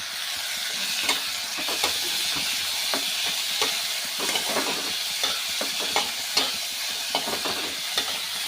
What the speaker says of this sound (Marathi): तो टोमॅटो छान परतले गेले आहेत